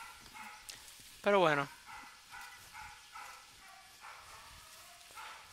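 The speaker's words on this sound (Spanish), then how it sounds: "mi perro le da por ladrar ahora en estos momentos" A dog barks in the background during an Unturned survival game session, a short burst of several quick loud barks amid ongoing talk.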